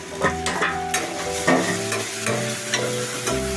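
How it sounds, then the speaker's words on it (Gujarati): Turmeric and spice masala sizzle in hot oil with an even frying hiss, broken by stirring scrapes and a few clicks against the pan over a steady low hum. "થોડીક સસડવા દઈશું એને"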